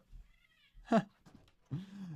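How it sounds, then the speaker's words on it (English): A cat freaks out at a door, letting out a loud, strained yowl followed by a drawn-out meow, close by in a quiet room with faint background sounds. "there's a cat that's literally freaking out, Dawson."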